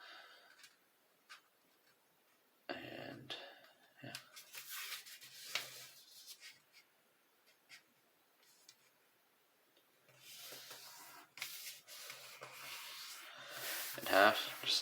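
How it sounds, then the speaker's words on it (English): A sheet of paper is folded in half and creased, with intermittent soft rustles and scraping rubs, some louder crackling passes near the end, all quiet and close. "now for the next step, we will fold our whole sheet in half"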